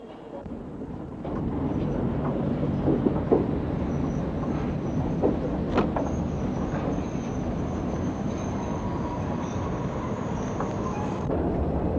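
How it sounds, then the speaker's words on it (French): A train at a suburban railway station in the morning, a steady loud rumble of rolling carriages with a brief squeal and a long high brake whine across the middle. "7 heures du matin, dans une gare de banlieue."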